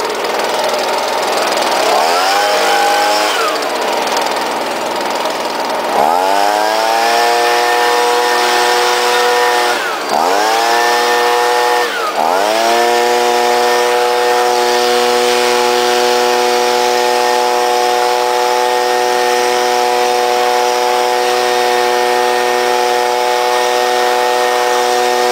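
A 2009 Stihl BG 55 gas leaf blower runs loud and close while clearing debris, its two-stroke engine droning steadily. The throttle is blipped several times, each dip and swell climbing back to a high whine.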